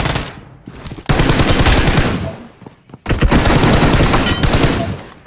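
Rapid automatic gunfire bursts from the mobile battle royale game BGMI (PUBG Mobile), loud and close, with two dense volleys separated by a short pause.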